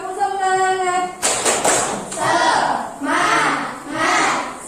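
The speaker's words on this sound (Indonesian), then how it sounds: "Tepuk semangat." A group of participants does a rhythmic chant-and-clap routine, a sustained shouted note giving way to bursts of sharp clapping mixed with crowd voices calling in unison.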